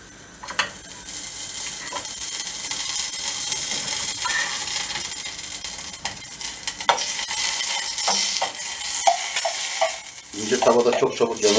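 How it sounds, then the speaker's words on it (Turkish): Butter melts in a thin pan for an İskender sauce, making a bright, close sizzle with scattered clinks and scrapes of a utensil against the pan and a busier clatter at the end. "Şimdi biraz tereyağını eritiyorum."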